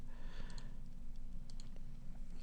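A few soft, quick clicks of a computer mouse in a quiet room, spaced irregularly over a faint low hum.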